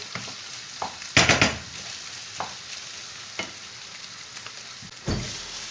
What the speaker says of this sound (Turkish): Ve şimdi hemen buna bir güzel domates sosu ilave edeceğim.